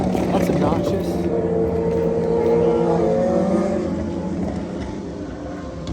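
Steady road traffic rumbles past an outdoor yard by a pastor's home, a continuous engine drone that swells and eases, with people talking over it throughout.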